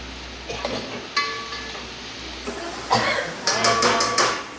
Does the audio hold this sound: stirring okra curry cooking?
yes